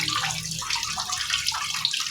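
Tap water running steadily into a bathroom basin or tub in a Filipino home comfort room, a continuous hissing splash close by with no voices.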